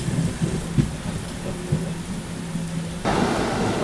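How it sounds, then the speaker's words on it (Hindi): Heavy rain pours down with a thunderstorm during a train journey, a steady wash of rain with low thunder rumbling underneath, and the downpour swells louder toward the end. "काफ़ी तेज़ बारिश हो रही है"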